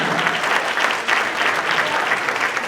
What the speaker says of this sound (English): So let's give a big round of applause for him.